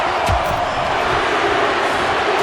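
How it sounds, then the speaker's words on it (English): A dense wrestling arena crowd from WWE 2K25 roars and cheers steadily during a men's War Games match, loud and continuous throughout. "Listen to this crowd."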